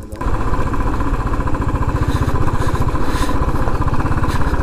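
A heavy 192 kg motorcycle carrying two riders on a rough road, its engine throbbing loudly and continuously with a rapid pulsing rhythm and rattling clatter close by.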